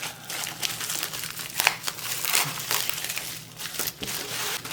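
Plastic packaging on a diamond painting kit crinkles and crunches continuously as it is cut open with scissors, close and fairly loud, with bursts of crackling and a few sharper snips.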